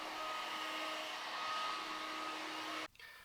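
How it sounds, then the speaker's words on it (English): A handheld hair dryer blows steadily and loudly in a close, continuous whoosh with a faint whine, then cuts off abruptly near the end. "hopefully this hairdryer can fix it a little bit."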